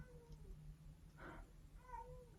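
A cat meows quietly a couple of times, faint and a little distant, over a steady low background hum.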